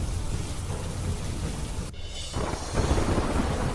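Heavy rain pours continuously while thunder rumbles low and loud beneath it, the roar briefly dropping and then surging back stronger toward the end.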